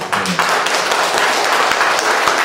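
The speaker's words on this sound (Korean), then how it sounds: "주님께 박수하고 시작하겠습니다" A church congregation claps in praise at a Korean worship gathering, a dense, steady patter of many hands filling the room for a couple of seconds, with a faint low musical tone underneath.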